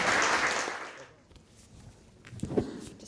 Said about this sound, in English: if we could just round of applause for our panel